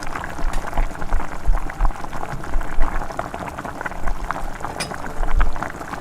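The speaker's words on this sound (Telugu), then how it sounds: "వేడి వాటర్ పోసాక ఒక పొంగు వచ్చాక స్టవ్ ఆఫ్ చేసేసుకోవాలి." Hot water poured into a stovetop eggless plum cake mixture, with a steady bubbling, frothing liquid sound rising and falling close by for several seconds, with no voices.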